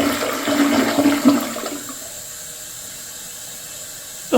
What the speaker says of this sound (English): Now let's take a look at a flush.